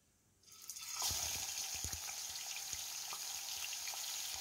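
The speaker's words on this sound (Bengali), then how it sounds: "সর্ষের তেলটা একটু ভালোভাবে গরম হয়ে গেলে এর মধ্যে আমি নুন হলুদ মেখে রাখা মাছের মাথাগুলো দিয়ে দিচ্ছি।" Fish heads coated in salt and turmeric drop into hot mustard oil and set off a sudden, bright sizzle that rises fast and then holds as a steady, crackling fry, close and alone.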